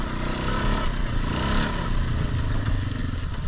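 A four-wheeler ATV on 29.5 Outlaw tires churns along while cutting new trails, its engine holding a steady, rough drone with faint clatter and no clear revving peaks.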